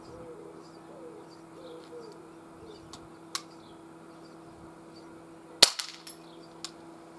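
An Umarex Glock 22 BB pistol is fired at an outdoor range with a steel backstop: two sharp, faint pops a couple of seconds apart, then a slightly louder crack followed by quick metallic ticks, over a quiet background with distant birds.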